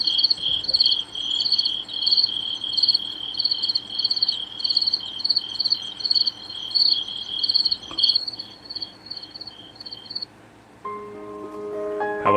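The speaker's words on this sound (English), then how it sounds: "want to hear some crickets?" Crickets chirp in rapid, evenly pulsed bursts for about ten seconds, then fall quiet as a few brief musical tones come in at the end.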